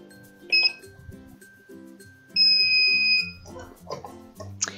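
A foil press timer gives sharp electronic beeps in a crafting room, one brief beep followed by a longer sustained tone, with quieter clicks and rattles in between.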